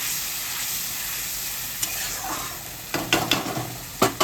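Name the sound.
egg dish frying in a pan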